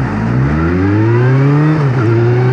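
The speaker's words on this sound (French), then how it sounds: "l'autre avec son tracteur, il veut démarrer avant moi" A heavy tractor engine revs and pulls away, its deep rumble rising steadily in pitch, loud and close, with no talking.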